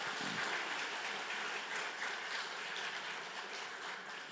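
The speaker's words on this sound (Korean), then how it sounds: "우리 박수하겠습니다." A church congregation applauds after a baptism, a fairly quiet but continuous patter of many hands clapping that holds steady throughout.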